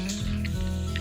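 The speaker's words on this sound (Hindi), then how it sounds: "जीरा राई फूटने के बाद मैंने उसमें हल्दी डाल दी है" Cumin and mustard seeds heat in hot oil in a pan, giving a steady close sizzle with a few sharp crackling pops scattered over it.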